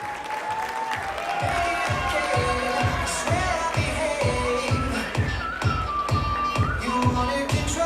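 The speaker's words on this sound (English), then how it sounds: "Can we have a round of applause again?" An audience at a Mr. & Ms. Rotaract finale gives steady, rhythmic clapping in unison, loud and sustained, with voices and cheering mixed in.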